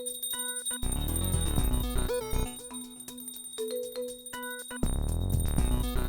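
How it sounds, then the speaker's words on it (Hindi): A doorbell rings repeatedly in a home setting, bright tonal chimes sounding several times in short bursts over a steady background hum, with no one talking during it. "अरे घंटी बज रही"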